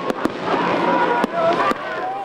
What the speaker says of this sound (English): the Aggies celebrating as the fireworks were going off after the game